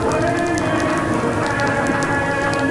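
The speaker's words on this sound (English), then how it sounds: "As you can tell, it started raining again" Steady rain pours down at an outdoor Volkswagen car show, a dense, continuous hiss of drops hitting surfaces with a few faint bird chirps in the background.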